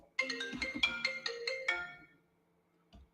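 A phone ringtone for an incoming call plays a bright melodic chime sequence for about two seconds, moderately loud and alone, then fades, with a faint extra blip shortly after.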